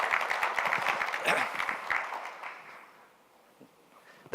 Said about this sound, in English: I feel good when I hear the clap.